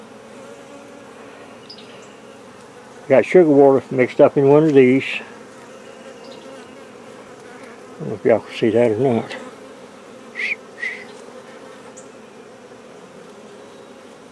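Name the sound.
bees buzzing in an opened beehive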